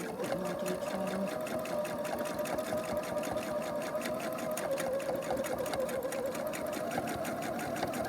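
Domestic sewing machine stitching free motion embroidery, a fast, even mechanical chatter held close and continuous with a steady motor hum underneath.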